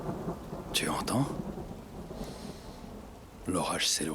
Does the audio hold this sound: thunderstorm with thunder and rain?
yes